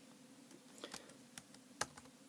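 Fingers tap at a computer keyboard in scattered bursts, a few quiet, distinct clicks spaced unevenly over a faint steady background hum.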